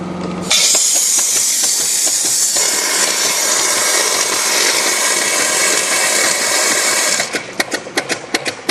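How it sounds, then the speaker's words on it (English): The StreetPrint Rapid Sprayer II switches on with a loud, steady hiss of air that pushes coating out of its hopper. The hiss runs unbroken for several seconds, then breaks into a few short, sputtering bursts. "I'm just going to turn on the air now."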